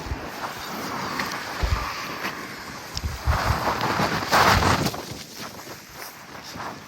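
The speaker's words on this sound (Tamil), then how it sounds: "அண்ட் நல்ல காற்றும் வந்து அடிக்குது." Strong wind blowing with rain outdoors on a road in the UK, a steady broadband rush with gusty swells and buffeting against the microphone, rising loudest in the middle.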